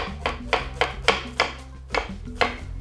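Red onions being chopped with a knife on a cutting board, about eight crisp, regular strikes at a steady rhythm over a low background hum, close and clear with no talking.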